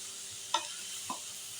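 Samosa vegetable filling sizzles quietly in a pan under a steady hiss, while a spoon scrapes and clinks against the pan twice.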